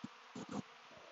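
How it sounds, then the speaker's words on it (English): A returning honey bee swarm buzzes around its hive entrance, with bees landing on the ground out front; a faint hum comes in a few short, close bursts. "they're coming home, and there's so many of them that they're just landing on the ground in front of the hive"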